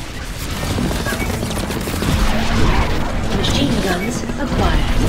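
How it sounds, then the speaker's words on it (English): A machine gun fires in the Cars 2 video game from Dinoco Chick Hicks's racer: a loud, dense, continuous rattle of rapid shots over engine roar and game noise, swelling in bursts throughout. "Machine gun."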